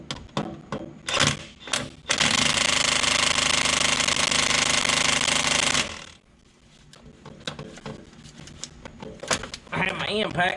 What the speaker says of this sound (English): I have my impact set on number 2.